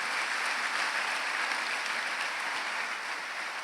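Church congregation applauding together, a steady, even wash of many hands clapping that fills the room for several seconds without pause.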